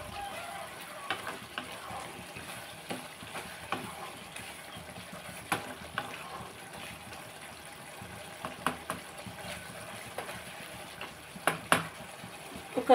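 A capsicum, tomato and egg curry bubbles and simmers in a covered pot as the oil rises to the top, giving a steady soft sizzle with occasional small pops and stirring clinks.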